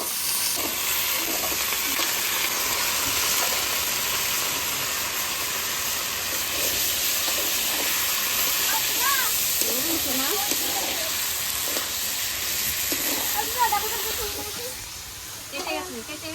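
Potatoes dropped into hot spiced oil in a pan give a steady, broad sizzle that runs close and even for most of the time, with faint voices and kitchen clatter here and there underneath.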